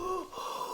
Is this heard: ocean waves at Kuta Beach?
no